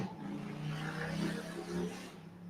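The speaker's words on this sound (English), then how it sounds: "just wait for the noisy car to go by" A noisy car drives past outside a shed, a faint low engine drone rising and swelling slightly before easing away, fairly distant.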